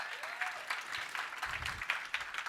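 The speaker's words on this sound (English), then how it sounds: "give a round of applause for that" A conference audience at an entrepreneurship talk claps in a fairly quiet, steady patter of applause, heard from some distance without cheering.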